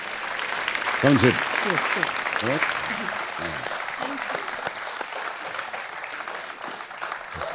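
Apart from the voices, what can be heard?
audience applause for the dancers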